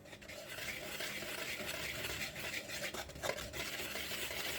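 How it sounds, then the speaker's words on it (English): Flour and salt whisked in a bowl: a continuous close scraping and swishing of the whisk, with a few faint clinks against the bowl and no voice. "then you want to whisk this to combine."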